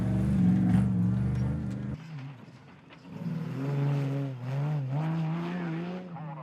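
A Patrol four-wheel drive in the extreme 4WD category races at the 2013 Sea Lake Mallee Rally, its engine loud and close with a rising, shifting rev and a brief dip before it howls up again.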